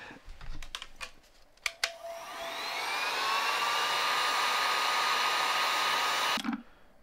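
A hot air blower runs steadily and loudly for several seconds while heating a plastic part of a DIY shop-vac vortex separator, with a rising tone as it spins up, then cuts off abruptly; brief clicks and handling noises come before it.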